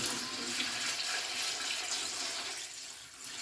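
Water poured into a cooking pot for Tamil-style tomato rice, one and a half handfuls of water per handful of rice, a close, continuous splashing pour that eases slightly toward the end, with no talking.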